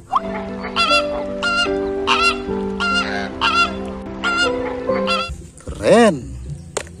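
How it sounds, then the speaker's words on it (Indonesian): Geese honk repeatedly at close range in a rhythmic series of loud, nasal calls, with a sharper, louder honk near the end over a faint background murmur. "di sini ada angsa."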